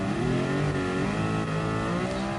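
A car engine in the GT Sport racing game revs hard and steadily, a loud, dense, buzzing drone with shifting pitch and no pauses, heard alone.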